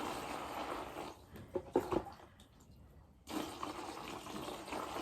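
Water poured into a cup to soak dry fast-fibre horse feed, a broad liquid rush that swells, breaks into splashes near the middle and resumes steadily, close and moderately loud with no talk.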